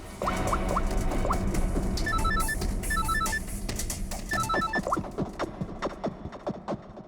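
A repeating electronic phone ring sounds in short bursts over a busy, noisy background of clatter and murmur.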